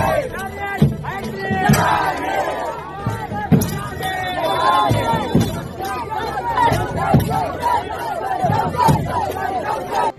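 A crowd chanting the Ya Hussain slogan in Amethi, loud, rhythmic shouts rising and falling over a dense babble of many voices at close range.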